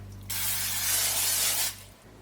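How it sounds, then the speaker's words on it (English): A spray can gives a single hissing burst of olive oil into an air fryer basket, lasting just over a second, close and fairly loud against a low steady hum. "I'm going to spray it with a little bit of olive oil"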